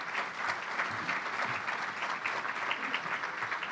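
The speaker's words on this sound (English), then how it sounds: "Are you clapping because we've been married a long time" A banquet audience applauds steadily, the dense clapping holding at an even, fairly loud level throughout without any talk over it.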